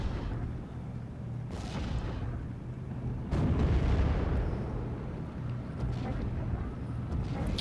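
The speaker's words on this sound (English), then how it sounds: "Just a bit of a barrage." Artillery barrage in the World War II strategy game Steel Division: Normandy 44, with continuous booming rumble and blasts layered over steady battlefield noise; a heavier impact lands partway through, amid distant radio-style chatter.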